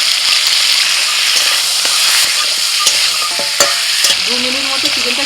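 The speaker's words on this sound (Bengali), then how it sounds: "চিকেন ভালো করে ধুয়ে জল ঝরাতে রেখে দিয়েছিলাম, এখন তেলের মধ্যে দিয়ে দিচ্ছি।" Chicken pieces, washed and drained, sizzle loudly in hot oil with turmeric and salt, a steady bright hiss with scattered crackles and scraping stirs close by, no voices.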